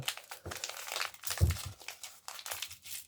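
Close, quiet crinkling and tearing of sticky tape off gift wrap, in short uneven bursts with soft crunches.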